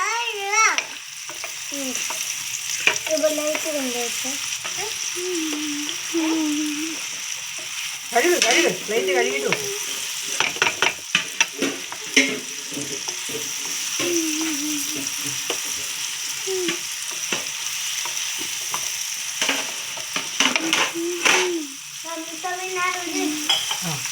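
A sweet snack frying in oil as it is stirred, with a steady sizzle under scraping and clinking from the stirring, while a voice talks in the background.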